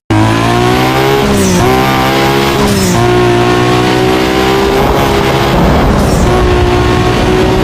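Nissan Skyline R34 with Ultimate engine upgrade in Need for Speed Most Wanted: loud racing engine revving through several quick gear shifts with pitch drops, followed by tire squeal and skidding noise near the end.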